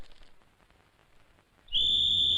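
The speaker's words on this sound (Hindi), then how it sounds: "मेरे बाप ने सीटी बजा दी है।" After a quiet moment, a single sharp whistle is blown, loud, shrill and sustained to the end.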